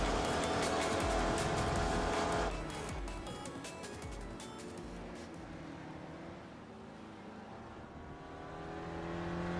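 A GSRC SRF race car engine at full revs on a lap in iRacing, loud and close at first, then dropping in pitch and level as it eases off, before building again toward the end.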